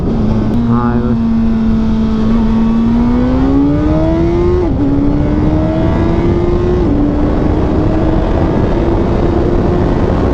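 A 2022 Suzuki Hayabusa motorcycle accelerates hard during a 60-130 speed test. Its loud engine drone climbs steadily in pitch, dips briefly at two gear changes, and rises again under heavy wind roar.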